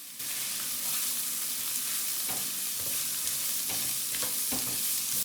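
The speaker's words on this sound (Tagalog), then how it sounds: "Lulutuin ko na din yung carrot at Baguio beans." Onion, garlic, carrots and Baguio beans stir-fried in a pan, a loud steady sizzle broken by repeated scraping and stirring strokes, with no one talking.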